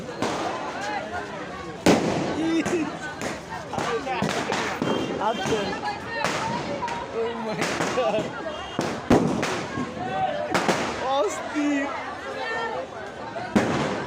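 New Year fireworks and firecrackers burst over and over, with sharp bangs at irregular intervals and denser clusters throughout. Crowd chatter and voices keep going underneath and among the blasts.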